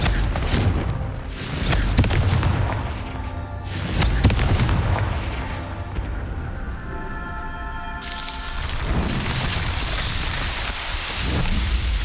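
Confringo fire spells burst in loud, booming explosions during Hogwarts Legacy combat, each blast followed by crackling debris and a rumbling tail, layered over dense game ambience and music.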